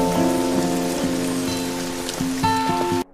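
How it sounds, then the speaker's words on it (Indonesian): Heavy rain pours down steadily and continuously throughout, with sustained music tones layered over the downpour and no talking. "Dongjo lalu mengajak Kim untuk menerjang derasnya hujan"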